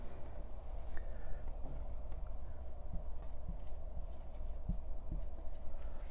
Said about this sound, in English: I should write this in green.